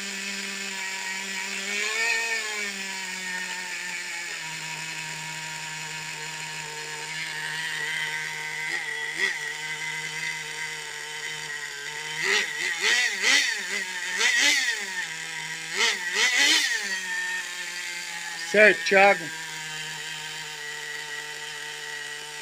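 A Redcat SH18 nitro engine in an RC car idles with a steady buzzing drone, then blips and revs in several short, sharp bursts; someone speaks briefly near the end.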